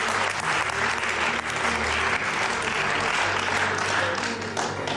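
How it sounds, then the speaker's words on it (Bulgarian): Loud, dense applause from a large game show audience, steady and sustained throughout with no break. "Аплодисменти!"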